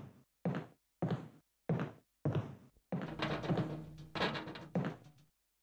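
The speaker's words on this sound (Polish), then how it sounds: "Co prawda coś nawala w szybę" In the Resident Evil Remake video game, something bangs on a window with a series of heavy, evenly spaced thuds, then a burst of rougher, denser knocking and rattling, fairly quiet overall.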